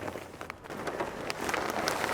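Rain falling outdoors in a garden makes a steady patter of drops on surfaces, fairly soft, with scattered louder ticks close by.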